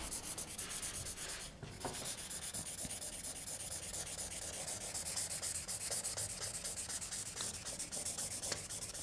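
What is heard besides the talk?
coloring on paper with a marker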